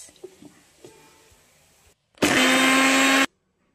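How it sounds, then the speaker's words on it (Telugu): A mixer grinder grinding gongura pickle runs in one loud, steady whirring burst of about a second, preceded by faint clicks and handling noises and ending abruptly. "గ్రైండ్ చేసుకోవాలి ఫ్రెండ్స్"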